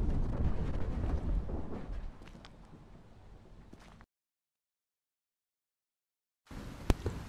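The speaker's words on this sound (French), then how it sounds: "Les éclairs, ils ont tapé." Thunder from lightning strikes in the video game Stray Souls: a loud rumbling roll that fades over about four seconds, then silence, then a sharp crack with rumble returning.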